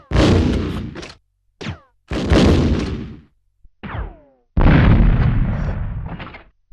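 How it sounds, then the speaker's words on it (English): A grenade launcher firing explosive rounds in Resident Evil Survivor: several separate loud blasts, each a sharp bang with a decaying boom, spaced by silences, close and without any voice. "Right now it's loaded with explosive rounds."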